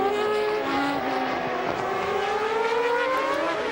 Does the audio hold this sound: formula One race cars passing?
yes